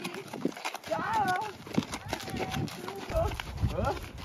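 A horse walking with hooves clip-clopping while a novice rider, on horseback for the first time, sits unsteadily; steady close hoof beats run under near-constant talking and shouting.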